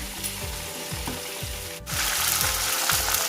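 Marinated pork ribs deep frying in oil, giving a dense, continuous sizzle that swells louder about halfway through, close and steady, with a faint rhythmic knocking underneath and no talking.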